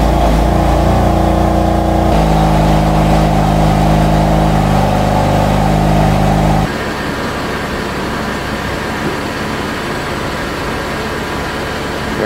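A BMW F30 3-Series engine idles loudly and steadily with a low, even rumble while the car is shifted into reverse, the tone dropping and settling quieter partway through.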